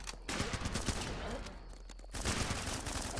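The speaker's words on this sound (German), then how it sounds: "dann kann ich die einfach abknallen" Rapid bursts of gunfire from the shooter game Running With Rifles rattle almost continuously, loud and close, with a brief lull before another dense fusillade.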